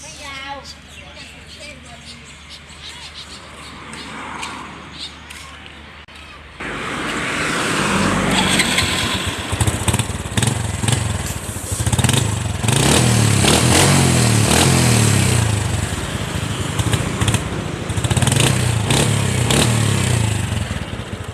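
A modified Honda Dream 110i motorcycle with a performance cam and aftermarket exhaust idles, then suddenly roars loud and revs repeatedly with a harsh, throaty exhaust note, someone talking over it at times.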